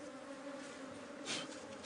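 Bees swarm around a natural honeycomb inside a tree trunk, producing a steady, continuous buzzing drone up close, with a brief louder swell partway through.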